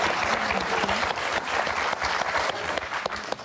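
Studio audience applause on the Motus word game show, a steady dense wash of clapping filling the room with faint voices mixed beneath.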